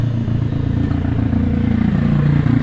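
A Daelim Citi Ace single-cylinder delivery motorcycle engine runs close and loud, a steady throbbing idle with rhythmic mechanical clatter and heavy vibration, no talking.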